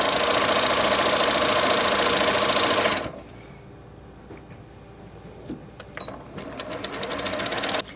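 A sewing machine stitching a quilt block seam whirs loudly and steadily for about three seconds, then stops. Faint clicks and handling sounds follow before a softer mechanical hum builds again near the end.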